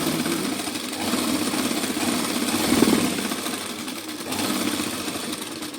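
A sewing machine stitches fancy lace onto a chunni, running in a loud, continuous mechanical whir with a fast, steady needle rhythm that swells and eases slightly throughout.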